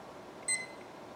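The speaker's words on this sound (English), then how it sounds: "Right now, let me set the timer for 5 minutes." A timer gives one short, thin electronic beep as it is set to five minutes. The beep is faint but clear over a quiet room hiss.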